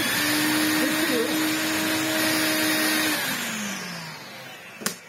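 A twin turbo vacuum cleaner runs loudly and close with a steady whooshing airflow and motor whine. The pitch drops and winds down toward the end, ending in a sharp click, and someone speaks briefly over it.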